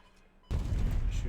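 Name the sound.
gunfire attack in the video game KARDS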